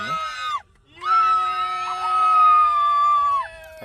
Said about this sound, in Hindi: हमें दूर से ही बर्फ़ दिख गई थी, इसलिए हम सब चिल्ला रहे थे।